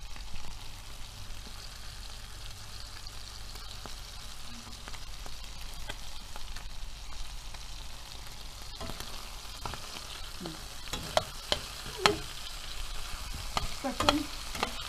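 Meat sizzles and is stirred in a hot pan after being salted and spiced, with steady frying hiss throughout and sharper scraping, clattering stirs clustering near the end.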